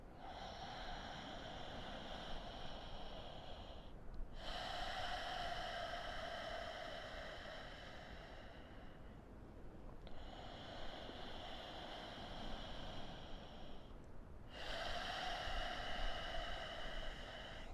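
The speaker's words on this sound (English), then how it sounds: "Four more breaths." Slow, deep breaths during a breathwork exercise, each long airy inhale or exhale lasting several seconds with brief pauses between, close and steady like rushing air.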